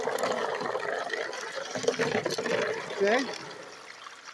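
Water washes sand down a Geo sluice California highbanker in a constant rushing, trickling flow, with a brief spoken word over it.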